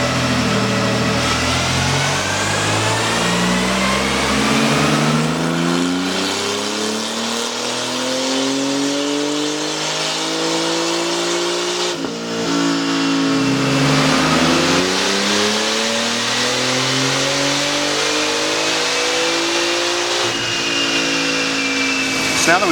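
A tuned Porsche 991 Turbo S on a dyno, its engine revving hard through repeated rising pulls with sweeping harmonic tones, a brief drop and reset between runs, loud and close throughout.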